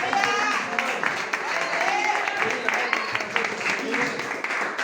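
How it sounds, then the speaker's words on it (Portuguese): A congregation claps along during a church worship service, the claps coming in a fairly steady rhythm that mixes with voices and background sound in the hall throughout. "Sente e louve Deus com palmas."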